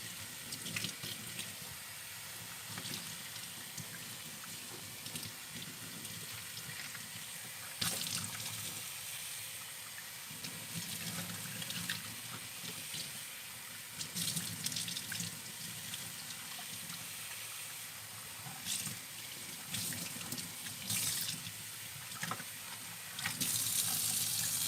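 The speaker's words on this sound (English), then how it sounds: "So I'm just letting the water get through" Water runs steadily from a tap over hair being rinsed, a soft continuous splashing hiss with shifting flow and occasional louder gushes, close by and without talk.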